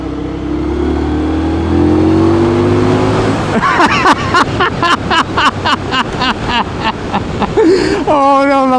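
Indian Scout motorcycle engine while riding, revving and accelerating through gears with a rising pulsing drone that turns choppy and rhythmic, loud and close with wind noise.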